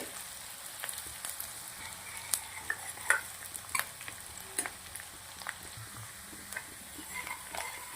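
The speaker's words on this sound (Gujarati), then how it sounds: "આદુ ડુંગળી લસણ શેકી નાખવાના છે તેલના અંદર" Chopped onion, ginger and garlic fry in oil for a veg Maggi kabab, giving a soft, steady sizzle broken by faint scattered pops and stirring scrapes.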